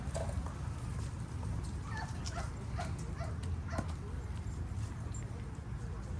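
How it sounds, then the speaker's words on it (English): A dog barks and whimpers in short yips at a distance, partly masked by steady outdoor background noise and people talking nearby. "Oh, look at that cute dog."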